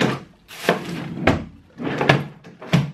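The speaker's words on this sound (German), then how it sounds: "Nächste Schublade." A drawer sliding shut with a thunk and the next one pulled open, several close wooden knocks and scrapes in an uneven sequence, with no voices.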